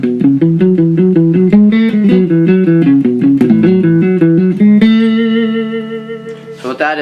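Close, loud guitar plays the first bridge part of a song with a rhythmic sequence of picked and strummed chords, then a long ringing chord that fades before a final short strum. No voices.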